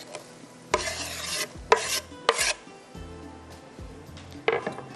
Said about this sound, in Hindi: 250 ग्राम की इतनी प्याज को मोटा मोटा चॉप कर लिया, ये जाएगी शाहताज कुकिंग ऑयल के अंदर